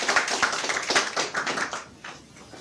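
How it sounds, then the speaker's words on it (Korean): Applause from a lecture audience welcoming a speaker at a Korean politics talk, sharp individual claps in an uneven crowd rhythm, strong at first and then thinning and fading toward the end. "윤여준 원장님의 강의를 힘찬 박수로 부탁드리겠습니다"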